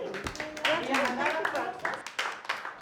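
Group of people clapping after a short presentation on water uses, scattered quiet claps mixed with talking and voices throughout.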